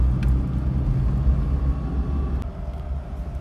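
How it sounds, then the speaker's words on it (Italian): A 2000 Fiat Panda Young with a 900ie engine, heard from inside while driving slowly in second gear, gives a low rumbling drone with a recurring odd noise beneath it and a faint click. "Ed ecco il rumore che si ripresenta"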